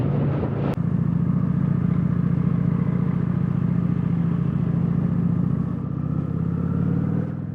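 A Kawasaki Vulcan 900 cruiser motorcycle under way, its engine a loud, steady low rumble with wind and road noise throughout, after a brief click at the start.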